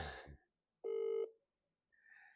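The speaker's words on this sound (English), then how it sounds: "Her phone is ringing." A single electronic phone tone sounds once, faint and isolated between brief quiet gaps and a short burst of other noise.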